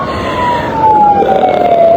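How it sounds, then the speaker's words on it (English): An ambulance siren wails loud and close on a busy city street in Liberia, one long tone sliding slowly downward, with traffic rumble underneath and no talk. "This is an ambulance."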